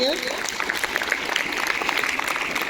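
A school audience applauds staff members at a staff activity event, a dense steady patter of clapping filling the room, fairly quiet and continuous, with a faint voice near the start.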